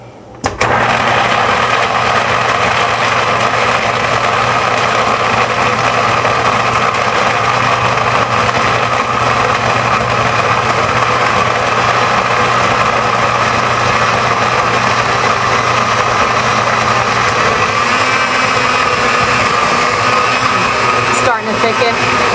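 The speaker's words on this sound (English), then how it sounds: "We really want to grind up the nuts enough" A blender grinding nuts for nut milk runs loudly and continuously, a steady high whirring grind that holds for about twenty seconds before briefly cutting out near the end.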